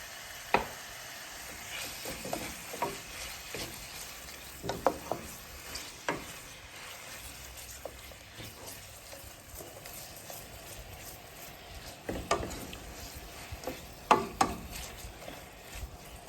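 Vegetables and smoked herring sautéing in oil, a soft continuous sizzle broken by irregular clacks and scrapes of stirring, moderately quiet and close, with no talking.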